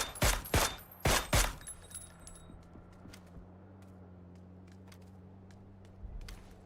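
Video game match gunfire: three loud close shots in quick succession open the passage, followed by a scatter of fainter, more distant shots over a low steady background hum.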